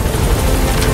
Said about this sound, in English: The chopper's here!